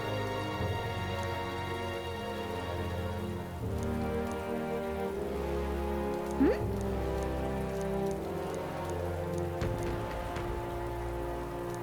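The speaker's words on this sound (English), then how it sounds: "Oh, I hate the rain." Steady rain falls throughout a scene in Metaphor: ReFantazio, a continuous hiss of drops running under soft sustained musical tones, with no talk.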